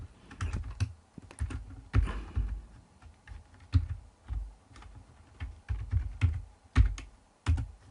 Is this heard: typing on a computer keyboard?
yes